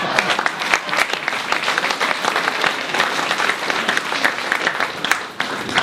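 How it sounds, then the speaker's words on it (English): Steady, dense applause from an audience at a retirement reception, many hands clapping continuously and close for several seconds, with no pauses. "I'm only seeing the women clapping"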